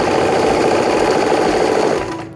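A Brother R7 sewing machine runs at full speed with a fast, steady mechanical whir and rapid needle chatter, loud and close, winding down just at the end.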